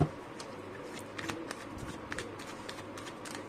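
Tarot cards being shuffled by hand, a run of soft papery riffles and flicks repeating through a quiet room, close and fairly faint with no talk over it.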